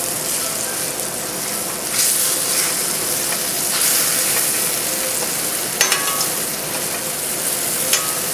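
Turkey pieces with mushrooms sizzle loudly in a pan over a high flame, a steady dense frying hiss with occasional stirring clinks and scrapes, no talking.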